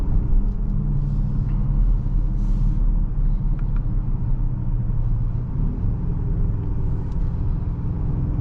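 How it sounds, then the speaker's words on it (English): A 2024 BMW X5 M60i accelerates, a deep steady engine rumble with road and cabin noise heard from inside the car, continuous and fairly loud with no talking. "Car sounds good. Good acceleration."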